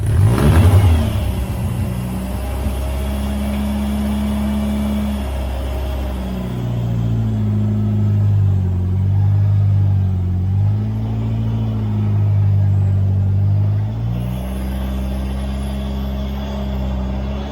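A classic car with a faulty handbrake drives up onto ramps, its engine droning steadily and loudly, pitch rising and falling as the throttle changes, close by with no talk.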